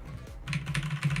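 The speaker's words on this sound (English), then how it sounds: "I got a new keyboard. It might be louder than my first one." Typing on a new computer keyboard, a rapid run of close, crisp key clicks and clacks with an uneven rhythm, loud and alone with no talking.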